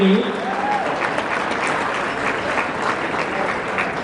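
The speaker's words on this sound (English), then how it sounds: "please give them a big round of applause" Applause from a gala audience at a charity event in a hall, steady dense clapping that fills the whole stretch, close and loud with no voices standing out.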